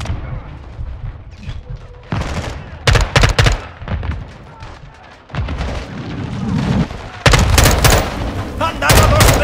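Gunfire in Call of Duty: Modern Warfare 2: loud bursts of rifle and machine-gun fire and heavy booming shots come in irregular clusters, mixed with battlefield noise and shouted voices.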